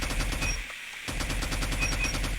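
Rapid automatic gunfire from a test-fired weapon in a shooter game, a dense burst of shots in quick succession that breaks off briefly mid-way before another sustained loud burst resumes.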